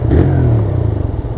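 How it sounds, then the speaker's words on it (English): A TVS Raider commuter motorcycle's engine restarts after its auto-stop cut it off. The exhaust gives a loud close burst and then settles into a throbbing idle, with no talking. "I can simply move the accelerator, and now you might have heard the exhaust sound."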